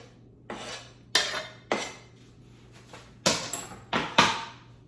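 Chopped onions and peppers go into a crockpot for a casserole, giving several separate clanks and clatters of a utensil and dish over a faint steady hum, with quiet gaps between them.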